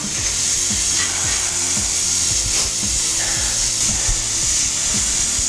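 A utensil stirs chorizo, tomatoes and rice in a pot, making steady, rhythmic scraping and rubbing strokes, close and fairly loud over a constant sizzling hiss, with no talking.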